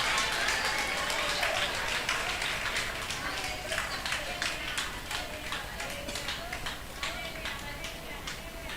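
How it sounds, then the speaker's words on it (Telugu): A worship congregation claps hands loudly together in a steady, rapid rhythm, a dense wash of applause-like clapping that continues throughout. "బిగ్గరగా చేతులెత్తి గట్టిగా చప్పట్లు కొడుతూ దేవుని మహింపరుద్దాం."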